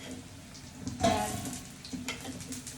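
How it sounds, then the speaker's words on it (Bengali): Potato chops (aloo chop) deep frying in hot oil for iftar, a close bubbling sizzle with a louder surge midway as the pieces are moved, no voices over it. "আর এদিক দিয়ে ভাজতেছি আলুর চপ।"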